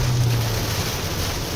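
Heavy rain pounds a moving 2023 Toyota RAV4 Hybrid AWD on a winding mountain road, a dense, steady, close roar of water with a low rumble underneath, continuous throughout.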